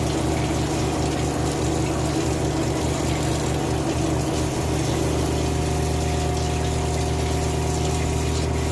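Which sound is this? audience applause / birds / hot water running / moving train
hot water running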